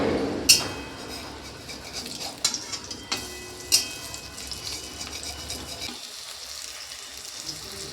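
Vegetable fritters with poppy seed paste frying in oil in a kadai, a soft steady sizzle punctuated by a few sharp clicks of a utensil, fading quieter near the end.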